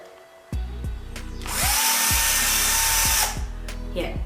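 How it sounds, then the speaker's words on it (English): A power drill bores into a wall while floating shelves are being installed: several short whirring bursts, then one long sustained grinding run, close and loud, with knocks between the bursts. "I need our drill."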